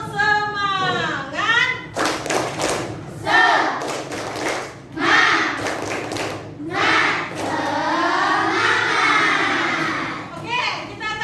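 A group of children and a teacher perform a rhythmic patterned clap routine at a school gathering, bursts of sharp claps alternating with chanted voices, loud and close with shouting woven throughout.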